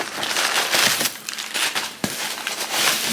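A plastic bag crinkling loudly up close while a VHS tape is unpacked from a Media Mail box, irregular crackly rustles in quick bursts with a sharp crunch near the middle, no voices.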